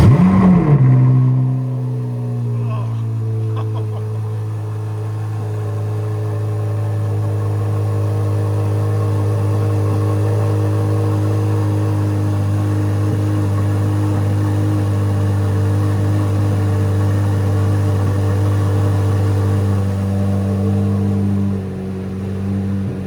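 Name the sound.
sports car exhaust revving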